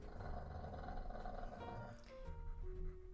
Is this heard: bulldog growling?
yes